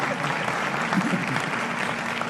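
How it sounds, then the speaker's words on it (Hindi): Studio audience applause on a Pakistani cricket talk show during PSL 7, steady dense clapping with a host's voice faintly underneath, at moderate level throughout. "तालियां बजा दें इनके लिए"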